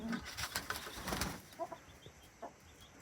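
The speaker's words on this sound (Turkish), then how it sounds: "Burada farklı güvercinlerimiz var." Pigeons in a coop give soft coos and rustle and shift about, with a few brief wing flutters, close by and fairly quiet, with no voices.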